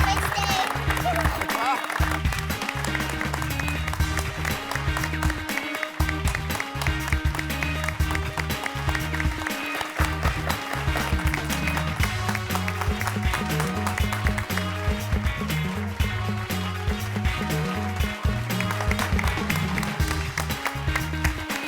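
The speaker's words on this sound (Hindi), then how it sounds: "तो दोस्तों, जोरदार तालियों से स्वागत करते हैं श्री बचूभाई गांधी जी।" Audience applause welcoming a guest at a staged event in an Indian TV comedy, a dense, sustained wash of clapping blended with music and voices, loud throughout.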